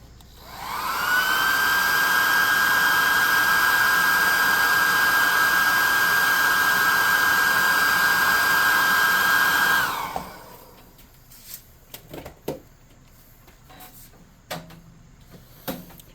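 A hot air gun blowing on a painted tabletop miniature sounds as a loud, steady whining roar for about nine seconds, then shuts off, leaving quiet handling clicks and taps.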